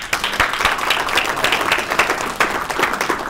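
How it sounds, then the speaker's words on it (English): An audience applauds during a communication and perception principles class, a brief burst of scattered, fairly close hand clapping with no talk over it. "How about a round of applause?"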